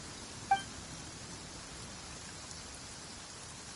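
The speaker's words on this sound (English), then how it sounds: "the relentless rain and wind are also an embodiment of the Raiden Shogun's will to close the nation." Rain and wind lash down in the Genshin Impact game world, a steady, even hiss of downpour with a couple of faint chime-like interface blips.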